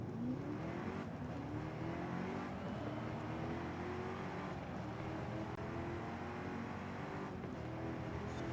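Engine roar of a car racing in Forza Horizon 5, a steady sustained drone with rising and shifting tones as it accelerates through gears, continuous and dense throughout with no talk.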